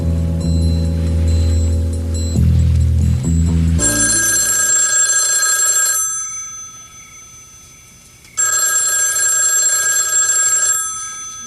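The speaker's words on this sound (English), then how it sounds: "Would you get the phone for me?" A telephone rings in a house in a soap-opera scene, with two long bright electronic rings separated by a short pause, loud and close, after a few seconds of music at the start.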